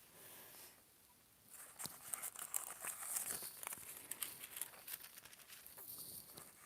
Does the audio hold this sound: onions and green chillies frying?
no